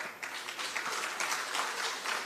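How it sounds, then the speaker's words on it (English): Brief, lively clapping from an audience at a PATH town hall meeting, a dense patter of hands that stays fairly constant for a couple of seconds. "So, yes, you can clap."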